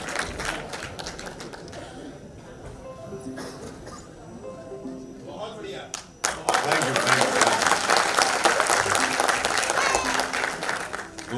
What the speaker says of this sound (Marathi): त्यांच्यासाठी पण जरा जोरदार टाळ्या आपण वाजवूया.